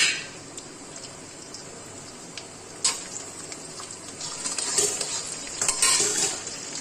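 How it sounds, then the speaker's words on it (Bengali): Beans and vegetables stir-frying in a pan for fried rice: a soft steady sizzle with occasional sharp scrapes and clinks of the spatula against the pan, growing busier toward the end, with no talking. "একে একে সব দেব দিয়ে ভাজবো"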